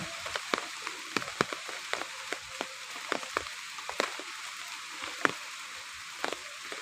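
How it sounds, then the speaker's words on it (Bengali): Light drizzle on a day of gentle rain, with rainwater dripping from a roof in sharp, irregular taps, several per second, close by over a soft steady hiss and no talk. "অল্প অল্প গুড়ি গুড়ি বৃষ্টি হচ্ছে দেখছেন এই যে চালের পানি পড়তেছে"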